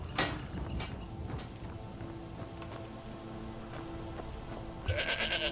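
A goat bleats in the Skyrim video game, a single nasal bleat near the end over a steady rain-like patter and game ambience, with no talk.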